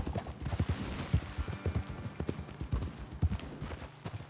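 Horse hooves clip-clopping in the video game Red Dead Redemption 2, a steady rhythmic walking beat of several horses, fairly faint and close with no talking.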